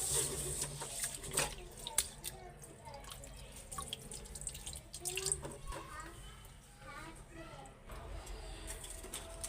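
Rice being washed by hand in water, with soft sloshing, dripping and rubbing close by while someone talks over it and birds call faintly in the background.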